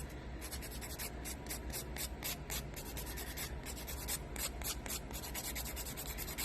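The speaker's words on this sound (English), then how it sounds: "Just keep filing." A nail file rasps dip powder off fingernails in quick, repeated back-and-forth strokes, a close, steady scratching rhythm that continues throughout.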